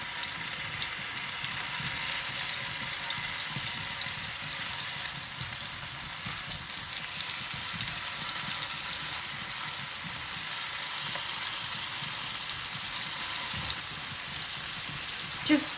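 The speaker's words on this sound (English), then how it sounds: "I'm just cooking it in a little bit of olive oil actually. I've got a nice hot pan." Paneer tikka pieces frying in a little olive oil in a hot pan on high heat, a steady even sizzle holding throughout at moderate volume, close and without talk.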